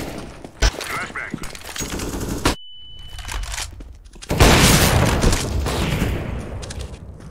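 Flashbang grenade going off amid gunfire in a video game shooter, a sharp burst and brief ringing tone giving way to dense, loud crackling shots and blasts that fill the scene, with voices talking over it.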